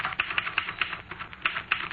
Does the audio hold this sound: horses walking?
no